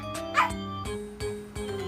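A young child imitates a dog, giving a few short barking yips in quick succession, loud and close against steady background hum.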